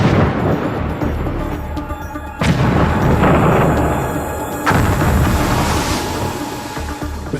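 Wartime depth charges explode underwater to attack U-boats, heavy muffled booms that hit suddenly and roll on into a deep, churning rumble, with a second blast following a couple of seconds later.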